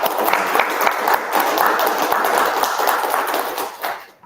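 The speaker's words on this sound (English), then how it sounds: "Please give a round of applause." An audience at a talk on web server-side attacks claps steadily in a dense, even wash of applause that carries for about four seconds, then tapers off and fades out at the end.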